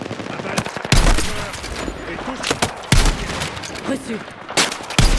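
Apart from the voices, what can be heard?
gunfire in Battlefield 6 video game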